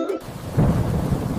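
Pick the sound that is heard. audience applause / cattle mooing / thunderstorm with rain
thunderstorm with rain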